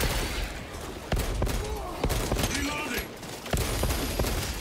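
Video game gunfire sounds as a run of sharp, loud shots about every half second, thick with background game noise and possible voices.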